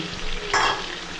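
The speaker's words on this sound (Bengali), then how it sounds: "এর মধ্যে পেঁয়াজটা দিয়ে দেব সেই সঙ্গে টমেটোটাও একসাথে দিয়ে দেব" Onion and tomato go into a little oil in a pan with chicken pieces, giving a short, close sizzling burst with stirring, no voices.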